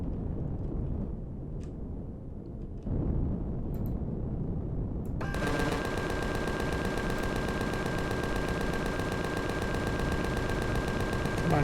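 Turrets and ship weapons in Empyrion Galactic Survival open up partway through, firing a dense, rapid, continuous stream of automatic shots that stays loud to the end, with a rumbling game soundscape before it.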